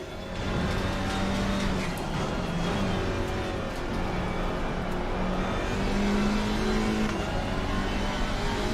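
A GT race car in Assetto Corsa Competizione holds a steady, loud engine drone flat out down a straight, its pitch rising gradually as it accelerates.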